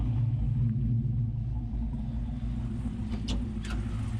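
An LS-swapped G-body Chevrolet Malibu hot rod V8 idles while warming up on a freezing cold day, a loud, deep, steady rumble close by, with a couple of faint higher squeaks near the end.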